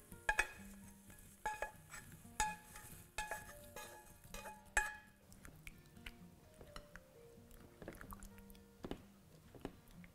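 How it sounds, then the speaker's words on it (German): Cooked potatoes tumble into a bowl and get mixed for an Indian potato-tomato raita, soft irregular scrapes and spoon clinks against the bowl, quiet and close with no talking. "Als nächstes gebe ich die Kartoffeln in die Schüssel."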